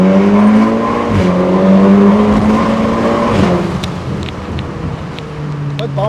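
Audi S3 8P engine and exhaust pulling hard on a bumpy road between buildings, a loud steady rising drone that climbs in pitch, then eases into a quieter, lower hum, with no talk over it.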